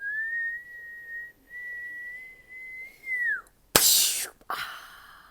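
A sustained whistled note held for about three seconds and bent downward imitates a firecracker's flight, followed by a breathy pop-like burst and a brief second puff.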